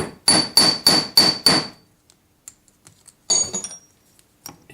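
Five evenly spaced hammer taps ring out on a collet block while setting a jeweller's bezel on a wrapped ring shank, each strike bright and metallic, then a pause and a few softer clicks and taps.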